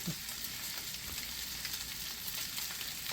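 Bacon frying in a pan, a steady close crackling sizzle with faint pops, alone without voices.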